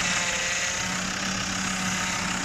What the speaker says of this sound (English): we've got a noise that we want you to hear, because this is the power steering pump